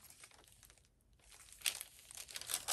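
A rub-on transfer sticker on a junk journal page crinkles and rustles as it is handled up close, a faint, uneven papery crackle with a brief pause, then sharper crinkles toward the end.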